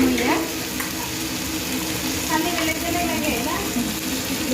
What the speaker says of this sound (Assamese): এয়া চিকেনখিনি প্ৰায় ফ্ৰাই হৈ গৈছে এতিয়া